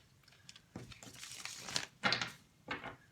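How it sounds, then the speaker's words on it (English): Tarot cards being shuffled by hand, several soft papery riffles and slaps in separate bursts, quiet and close, with no talk. "One last shuffle for Libra"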